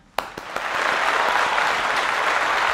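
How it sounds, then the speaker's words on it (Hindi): Applause from an audience swells after a few sharp opening claps into dense, sustained clapping that holds steady and fairly loud to the end. "एक बार जाते जाते हो जाए तालियाँ"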